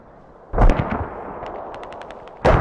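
Machine gun fire in a competitive multiplayer video game match: a sharp, loud burst at the start, rapid fainter shots rattling through the middle, and another loud report at the end.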